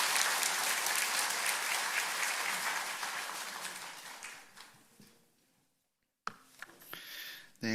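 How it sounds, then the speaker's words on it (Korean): A church congregation applauds during a Sunday service, loud massed clapping that gradually thins and fades out, then a short silence before a few scattered sounds and a voice. "인사하실 때 우리 한번 힘차게 박수하시겠습니다."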